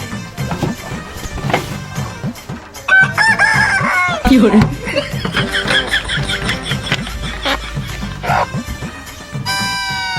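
A rooster crows loudly and close by in a few drawn-out calls amid clucking chickens, with voices and other background sounds mixed in.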